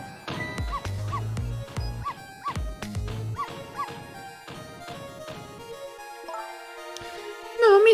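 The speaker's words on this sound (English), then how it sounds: "No, Missile, you're not supposed to bark." Several sharp dog barks and yips from Missile, the small dog in the video game Ghost Trick, come in quick bursts alongside game music, then fade before a brief squeaky sound at the end.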